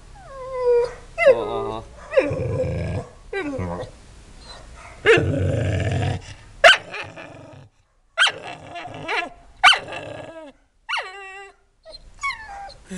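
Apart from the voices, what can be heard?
dog barking and growling, afraid of a digital camera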